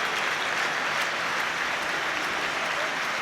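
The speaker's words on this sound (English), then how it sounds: "Applause from the Hearts supporters for the Ghanaian." Hearts supporters applauding in a stadium during a Hearts v Hibs football match, a sustained wash of crowd clapping heard from a distance, steady and unbroken.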